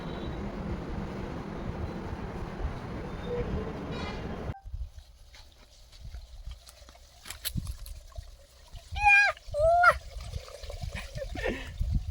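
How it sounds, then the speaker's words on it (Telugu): A truck driver bathes outdoors, with water pouring and splashing loudly and steadily for several seconds before stopping abruptly. Quieter ambience follows, with faint chirps or whistles. "డ్రైవర్లు ఇలా స్నానాలు చేస్తారు ఎక్కడంటే అక్కడ, టైం దొరికినప్పుడు, నీళ్ళు దొరికినప్పుడు"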